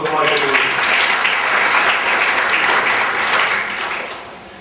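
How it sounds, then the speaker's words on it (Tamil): Audience applause at an organised event, a thick burst of clapping from a crowd that runs steadily and then tapers off, with a voice briefly over it at the start. "அவங்களுக்கு ஒரு பெரிய கரகோஷம் கொடுக்குமாறு."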